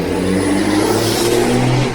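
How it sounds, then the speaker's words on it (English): A loud car droning by on a small road near Clayton Bay, a steady close engine roar with a slight shift in pitch as it passes. "you get all the loud bikes, you get all the bloody loud cars"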